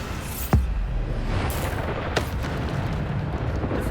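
Bombarda blasting spells in Hogwarts Legacy, two sharp booming impacts followed by a rumbling chaotic battle din, loud and close, with no speech.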